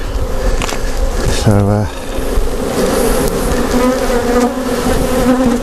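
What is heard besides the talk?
bees buzzing inside a skep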